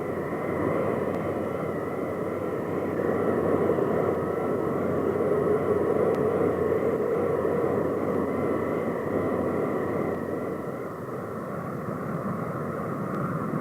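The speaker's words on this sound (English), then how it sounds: "This is a new type with 2 jet engines and a fixed wing." A steady, loud roar from a fixed-wing VTOL aircraft powered by two jet engines, an unbroken engine drone with a faint hum holding evenly throughout and no voices.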